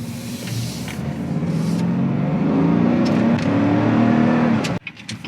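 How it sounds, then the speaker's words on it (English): The engine of a 2017 Chevrolet Tahoe LT 4WD climbs in pitch as the SUV accelerates hard, a loud, rising drone heard from inside that cuts off abruptly near the end. "I suppose you guys want an acceleration test."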